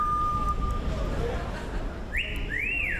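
Coco, a pet parrot, whistles from a window over city street noise: a long steady note, then two quick rising-and-falling whistles near the end.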